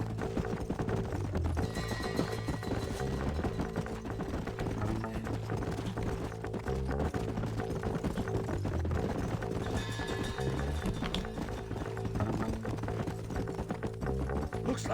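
Horses gallop with a steady rhythmic clip-clop of hooves in Red Dead Redemption, the hoofbeats sitting under a constant layer of game music and ambience.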